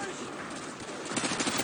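Rapid machine gun fire rattles in a Call of Duty: Modern Warfare 2 match, dense bursts that swell toward the end under a player's excited voice.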